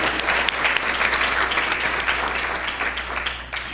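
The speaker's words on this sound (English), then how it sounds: "Let's give McAllen ISD a round of applause to show our gratitude." Sustained audience applause at a Teacher of the Year luncheon honoring McAllen ISD teachers, dense and steady clapping from a large room with a low hum underneath.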